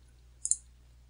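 A single mouse click, or a quick double click, on an Add Animation button in Explaindio video software, short and crisp against a quiet low hum.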